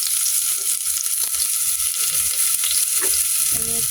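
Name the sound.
garlic frying in a pan for chicken curry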